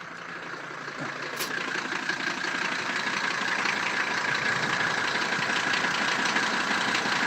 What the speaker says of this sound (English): I don't even know if you can hear the engine in here.